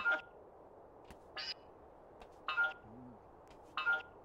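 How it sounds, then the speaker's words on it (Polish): Robot sounds from shoving in The Sims 2: four short, bright electronic bleeps with tonal chirps, spaced about a second apart, plus a faint low warble, fairly quiet and with no talking. "Uwielbiam dźwięki, które roboty wydają podczas przepychanek."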